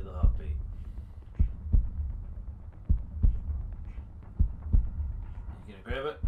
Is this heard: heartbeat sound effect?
yes